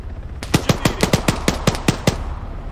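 Video game gunfire shot through a wall: about ten loud, evenly spaced shots in a steady rhythm, close and clear, with no talking over them.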